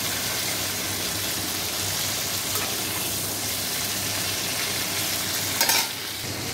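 Shrimp sizzling hard in hot oil in a pan, a dense, constant crackling hiss that stays loud and close throughout, with a brief clatter near the end as the pieces are lifted out.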